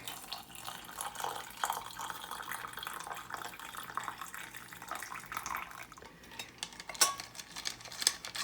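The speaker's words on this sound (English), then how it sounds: "I'm going to add the water." Water pours into a glass canning jar of dry pinto beans, a soft continuous trickle and gurgle with faint clinks near the end, fairly quiet and close.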